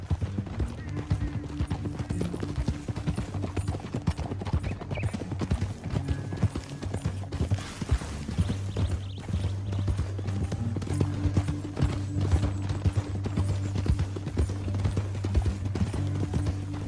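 Rapid rhythmic hoofbeats of galloping horses in the video game Red Dead Redemption 2 continue steadily throughout, with a low droning score underneath and occasional voices.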